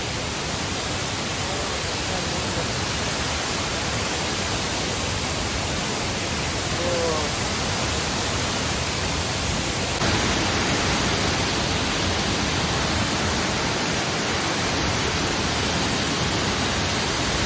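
Waterfall roaring as a steady, dense broadband rush that fills the whole span, loud and close, with a faint voice barely present under it.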